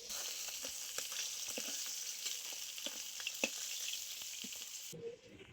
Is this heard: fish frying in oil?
yes